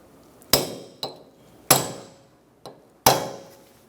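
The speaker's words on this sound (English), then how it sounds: "Remove your punch, stake the axle nut." Hammer blows on a punch staking the front axle nut of a 2012-2020 Chevrolet Sonic, five sharp metallic strikes, alternating louder and lighter, each ringing briefly, close and clear with no talk.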